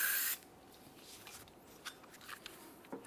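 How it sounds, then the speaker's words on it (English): Parts cleaner sprays from an aerosol can into the slider pin ports of a brake caliper on a 2008-2017 Mitsubishi Lancer. One short, loud hiss is followed by quiet scraping and handling noises. "As we spray parts cleaner in, it's possible that some of it will want to come out"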